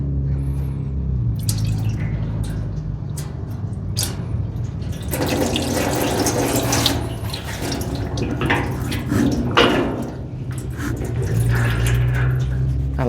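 Used oil drains from a Can-Am Maverick X3 into a 15-gallon oil drain pan, a close, steady trickling pour with intermittent drips and heavier gushes.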